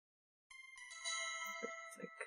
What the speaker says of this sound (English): It's like ding dong, someone's at your door.